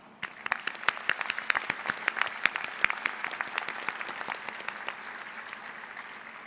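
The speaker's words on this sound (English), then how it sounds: "Graduates, would you please acknowledge those individuals who have supported you in the pursuit and completion of your graduate degree by a round of applause." Graduate degree recipients at a fall university commencement ceremony give a sustained round of applause for their supporters, many hands clapping with sharp individual claps standing out over a continuous crowd wash throughout.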